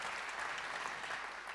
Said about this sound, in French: J'aimerais qu'on l'applaudisse, Marie-Hélène Pébel.